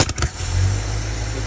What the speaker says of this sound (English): it's backfiring through the carburetor